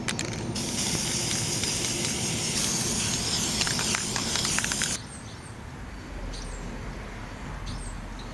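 A can of flat black spray paint hisses steadily onto the outside of a homemade wasteland-style tomahawk for about four seconds, then cuts off, leaving a quiet room with a few faint clicks.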